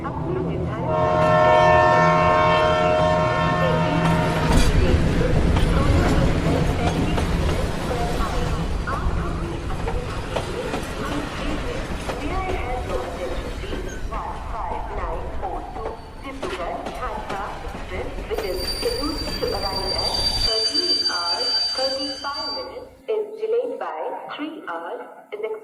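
A cartoon train sound effect: a horn blast, then a rhythmic clatter of wheels on rails, with a narrator talking over it and a station announcement near the end.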